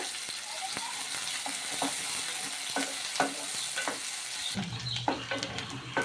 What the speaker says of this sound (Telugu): చూడండి, ఉల్లిగడ్డలు మనకు వేగినాయి మంచిగా.